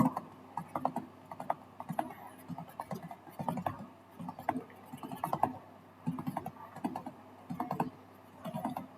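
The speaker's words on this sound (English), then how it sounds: "In the formula bar, we will type souvenir programs." Keys clatter on a computer keyboard as text is entered into a spreadsheet cell, quick irregular bursts of close, fairly quiet clicks with short pauses between runs.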